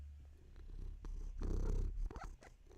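Domestic cat purring close to a microphone, a soft low rumble swelling and fading with a few bumps and rustles, no voices present.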